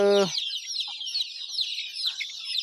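Native desi chickens on a poultry farm cluck and chatter in a steady, busy stream of high calls, with one brief lower call at the very start.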